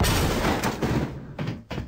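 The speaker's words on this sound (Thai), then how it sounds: "เดี๋ยวดูเอฟเฟกระเบิดเขาหน่อย" A few booming blasts from an explosion effect in the Unreal Development Kit game engine, a loud explosion followed by two sharper thumps, heavy and rumbling.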